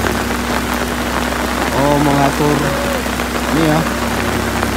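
Heavy rain pours at the Batu Jomba roadworks, a steady, dense hiss running unbroken through the whole stretch while someone talks over it.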